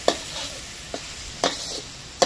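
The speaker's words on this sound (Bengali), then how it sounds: "দিয়ে দিচ্ছি জিরের গুঁড়ো। আর এটাকে পুরো কষিয়ে নেব" Taro flower curry with cumin powder is stir-fried in a pan, a steady soft sizzle broken by four sharp scrapes or knocks of the spoon against the pan, close by.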